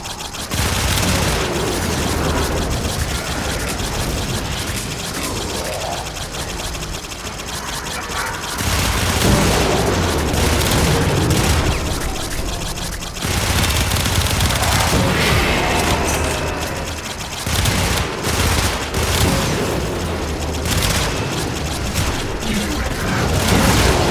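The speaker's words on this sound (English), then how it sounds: "I'm not sure what those explosions are about." Dense bursts of gunfire and booming explosions in the video game Warframe rumble continuously, loud and chaotic, with machine-gun rattles layered throughout.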